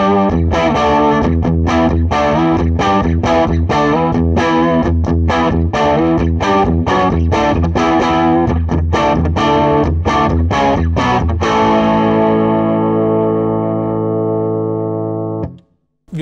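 Distorted electric guitar through a Blackstar Artisan amp on its low channel at 30 watts: loud, busy strummed chords and picked notes that end on a long ringing chord, which cuts off near the finish.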